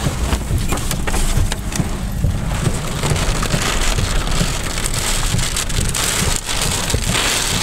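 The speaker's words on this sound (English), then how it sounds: "when the rain was coming across the road like that" Heavy storm rain lashes the road and a vehicle during a storm chase, a loud, dense, steady roar of drops with sharp gusty bursts and a faint thunder rumble, no talk.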